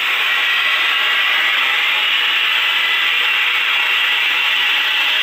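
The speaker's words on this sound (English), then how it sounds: "It sounds like two things going on: axle bearing and the diff." Worn axle bearing and differential in a 2018 Ford F150 8.8 inch rear end with 3.73 gears, giving a loud, continuous grinding whir at a steady pitch while the truck rolls slowly in two-wheel drive.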